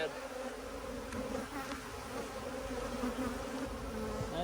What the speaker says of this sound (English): These guys are the meanest bees I've ever dealt with.